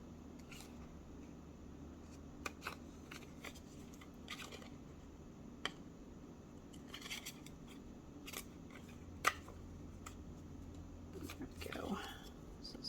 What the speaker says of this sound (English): Just going to use my scissors and trim that out.